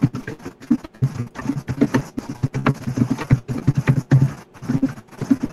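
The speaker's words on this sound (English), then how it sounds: "Someone's got a really loud keyboard." Loud mechanical keyboard typing picked up over a voice chat microphone, an irregular run of sharp clacks and key thuds in quick bursts with brief pauses, close and alone.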